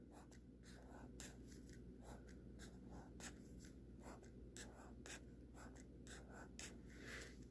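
Pencil drawing on paper for a math proof drawing, a faint close scratch of quick repeated strokes and taps in an irregular rhythm, alone in a quiet room.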